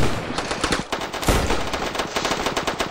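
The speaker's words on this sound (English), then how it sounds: "I'm hearing gunshots." Rapid video game gunfire crackles in dense bursts from a battle between raiders and a Russian, loud and continuous with one heavier blast near the middle, no talk over it.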